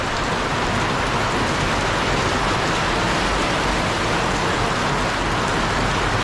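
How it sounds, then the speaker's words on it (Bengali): Heavy rain pouring down in a steady, loud, dense roar with no pauses, filling the whole stretch and staying intense throughout, no talking over it. "আর বৃষ্টিটা আস্তে আস্তে আরও বেড়ে যাচ্ছে দেখো।"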